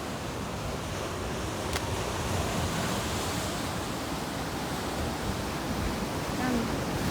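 Ocean waves wash against a rocky beach in Bermuda, a loud, continuous surf roar with wind buffeting the microphone and no clear gaps between breakers.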